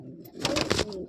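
A single short, soft coo from a pigeon in a pigeon loft, close by and alone against a quiet background.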